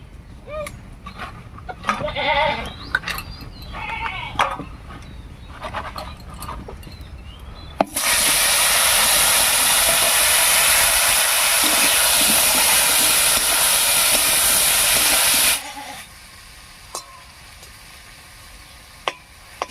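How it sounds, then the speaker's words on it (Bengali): Eggplant pieces coated in turmeric and salt hit hot oil with a sudden loud, steady broadband sizzle lasting several seconds, then drop to a quieter fry, with kitchen handling sounds before it. "এবারে হলুদ লবণ মাখিয়ে ভেজে নিচ্ছি"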